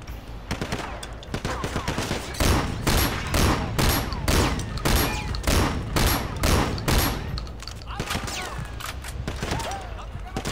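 Sustained automatic gunfire in the video game Sleeping Dogs, loud, dense, rapid shots hammering almost continuously for about ten seconds with little pause between bursts.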